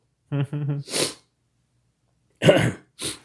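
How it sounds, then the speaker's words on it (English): A voice speaks briefly, then a sharp, close sneeze follows after a pause, with a second burst of breath right after. "Gotta sneeze."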